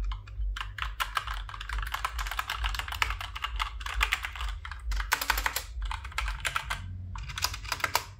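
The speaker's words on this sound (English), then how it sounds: "My keyboard, none other than Apex Steel Series." Steady clacky typing on a SteelSeries Apex mechanical keyboard, quick irregular keystrokes close up, with a low hum underneath throughout.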